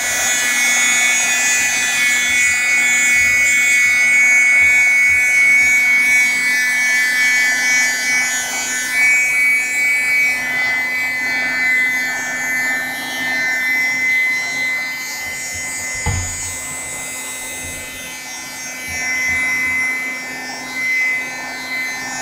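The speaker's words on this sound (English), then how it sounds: "this is just a craft dryer" A craft dryer blows steadily and close, a continuous airy hiss with a faint hum, used to dry a watercolor sunset sky painting; it stays fairly constant with slight fluctuations and a brief knock partway through.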